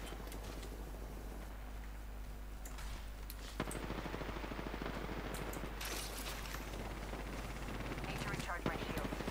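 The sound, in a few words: gunfire in a video game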